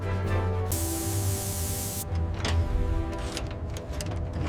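A strong burst of clear coat spray hisses for about a second and a half, with a low mechanical hum and faint clicks around it, during restoration of an old sci-fi mech machine.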